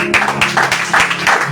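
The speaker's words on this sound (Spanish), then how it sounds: "Un fuerte aplauso a Dios." A church congregation claps together for God in a dense, steady burst of applause, loud and close, with voices mixed faintly in.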